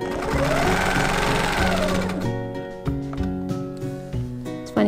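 A sewing machine stitching out a small quilt star design with ruler work, a fast, even mechanical whir of needle strokes that shifts pace partway through, close and continuous with a few soft clicks.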